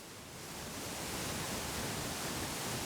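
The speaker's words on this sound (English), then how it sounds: "the cool thing about the waterfall here in Natural Falls State Park is that you can hear it" A 77-foot waterfall at Natural Falls State Park, Oklahoma, pours in a steady, broad, hissing roar that swells slightly at the start and then holds loud and unbroken, with no voices over it.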